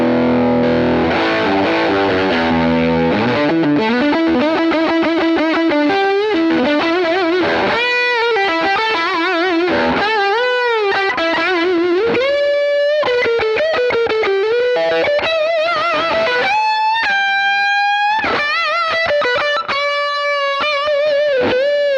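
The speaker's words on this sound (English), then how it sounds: "What I'll do next is I'll kick in the valve screamer in front of it for my lead sound." Overdriven electric guitar lead through a modern Fender amp with a valve screamer boost in front, playing a continuous, loud melodic line of sustained bent notes and quick runs, alone with no talking.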